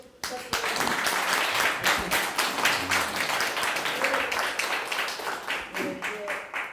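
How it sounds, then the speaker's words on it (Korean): An audience at a Korean political party leadership candidates' debate applauds with sustained, dense clapping that holds steady for several seconds before gradually thinning out. "뜨거운 박수 부탁드립니다."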